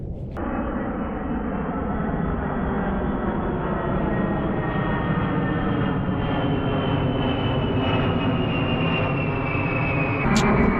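Steady roaring drone of an airplane engine, loud and sustained for several seconds with a slowly shifting pitch, no talking.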